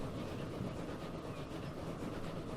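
A game train in Transport Fever 2 rolling along, a steady broadband rumble and rattle of wheels on track, continuous and moderately loud with no voices.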